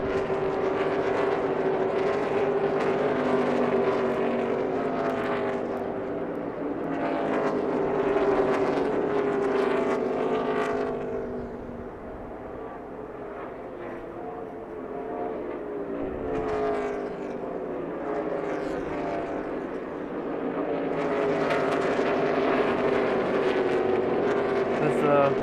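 NASCAR race cars at Phoenix roar past in a sustained engine drone that swells and fades as the pack passes, with a commentator talking over it.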